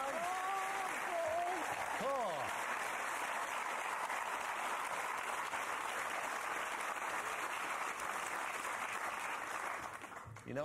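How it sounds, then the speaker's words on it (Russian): Loud applause from a large studio audience at the quiz show Who Wants To Be A Millionaire? (UK) fills the space steadily for about ten seconds, with a brief bit of talk near the start, then fades. "Аплодисменты."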